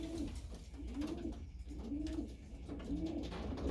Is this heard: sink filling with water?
no